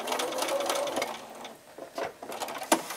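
A sewing machine stitches the corner of a jelly roll mug rug with a quilting foot, a close, fast mechanical whir that slows and pauses briefly at the pivot before resuming in short bursts.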